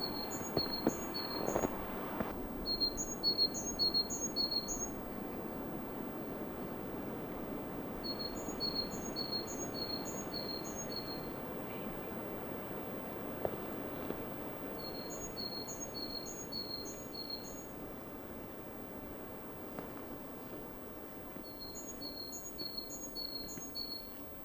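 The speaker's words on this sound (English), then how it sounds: "Listen to the birdies." A bird repeats short bursts of quick, high chirps every few seconds, fairly distant, over quiet outdoor ambience.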